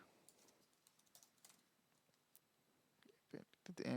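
Faint, sparse keystrokes from code being typed on a computer keyboard, scattered clicks across the clip with a cluster of louder taps near the end, no talk over them.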